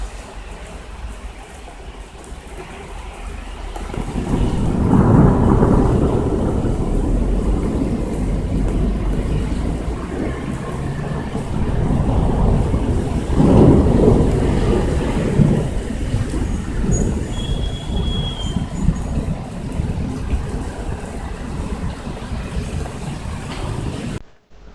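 A May thunderstorm in Amiens brings two long, heavy rumbles of thunder rolling over steady rain, loud and sustained, with no voices.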